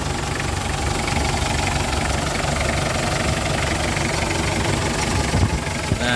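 2004 Mitsubishi Kuda Grandia diesel engine idling, a steady close knocking clatter with a low rumble and vibration, continuous and loud with no talk.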